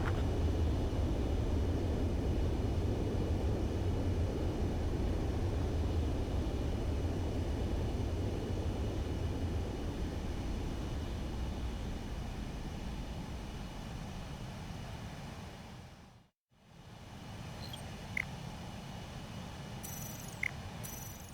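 Steady, broad roar of a fighter jet on a landing approach in Ace Combat 7, continuous and loud, easing slightly before a brief dropout, then resuming with faint clicks.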